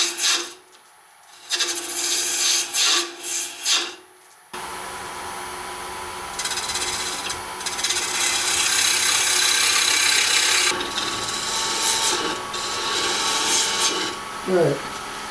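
A gouge cuts a segmented wooden bowl spinning on a lathe at about 800 RPM, giving a steady raspy scraping that swells and fades in bursts, loud and close, with brief pauses between passes.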